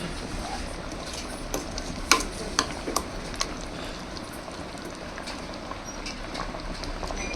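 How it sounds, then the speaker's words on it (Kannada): A pot of chicken curry with ground masala bubbles and simmers steadily, with a few soft pops and clinks partway through. "ಈಗ ನೋಡಿ ಕುದೀತಾ ಇದೆ ಕುದಿಯೋಕೆ ಬಿಟ್ಬಿಡ್ತೀನಿ"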